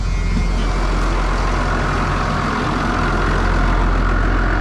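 A Freightliner Thomas Built school bus engine runs steadily at close range, a loud continuous low diesel drone with a faint rising whine, and no voices are heard.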